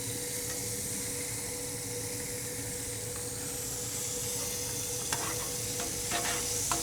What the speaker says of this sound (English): throw a little butter down